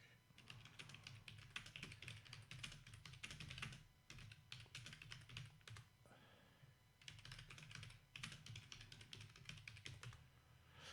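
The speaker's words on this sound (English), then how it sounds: "I've got to put my keyboard on a flat surface so I don't make so much noise." Steady typing on a computer keyboard resting on a flat surface, with dense rapid key clicks in several bursts and short pauses between them, over a low background hum, fairly quiet and with no talking.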